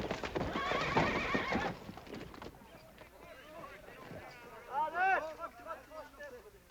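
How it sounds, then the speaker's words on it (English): A horse gallops close by in a burst of pounding hooves, then neighs loudly several times, with people talking faintly underneath. "That's what I call riding a horse."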